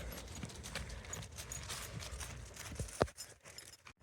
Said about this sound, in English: Sequoia is a 21-year-old Tennessee Walker horse